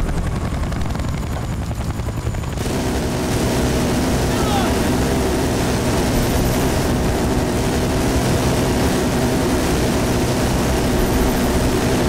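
A helicopter in Battlefield: Bad Company 2 drones loudly and steadily, rotor chop and engine roar swelling after a quieter start, with voices talking underneath.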